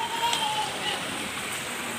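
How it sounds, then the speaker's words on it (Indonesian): A waterfall rushes steadily at a fish-themed village spot in Kanigoro, Malang, a constant broadband wash of falling water heard from a moderate distance without a break. "Ada air terjun."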